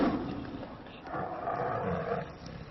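Tiger roaring and growling in a transport crate at Heathrow Airport, a deep rumbling call that swells and fades over a few seconds, fairly close.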